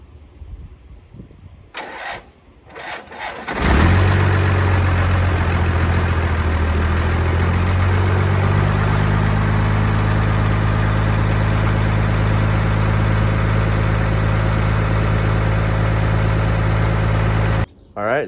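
A K30 crew cab's 12-valve diesel cranks briefly, then catches and settles into a loud, steady high idle with a rough, droning rumble that runs without a break until it cuts off at the end.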